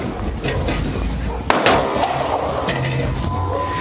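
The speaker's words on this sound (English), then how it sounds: "Shots fire, shots fire." A single sharp, loud crack bursts out amid a noisy bodycam scene as shots are fired at police officers rushing in, followed by rumbling commotion and movement with a faint tonal hum.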